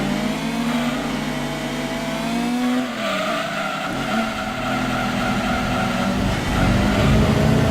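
Race cars in the Gran Turismo 2 racing game roar past with a loud, sustained engine drone and tire noise, swelling louder near the end, with no talking.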